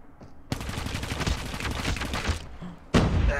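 Rapid gunfire from a Call of Duty Mobile 1v1 match in the Saloon map, loud and continuous for several seconds, with a brief lull before another burst of shots.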